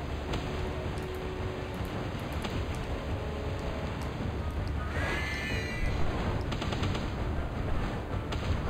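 Musket fire in the video game Palworld: a few sharp gunshot bursts scattered over steady background game ambience, with a brighter flurry of shots near the middle.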